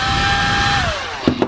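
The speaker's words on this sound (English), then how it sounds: "Very nice hairdryer, very warm." A hairdryer runs steadily in a Carnival Sunshine cruise ship balcony cabin, a loud close whir whose pitch drops near the end as it is switched down, followed by a couple of brief clunks.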